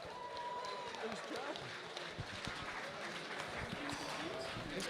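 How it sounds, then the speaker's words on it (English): A crowd applauds in an arena for the robot Stratus during a beetleweight robot combat tournament. The clapping is steady and diffuse, running the whole time beneath a commentator's talk. "please, a round of applause for Stratus"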